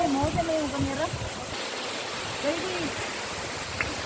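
Rushing water at Casiawan Falls, a steady broadband roar of the waterfall filling the scene, with people talking over it at the start and again midway.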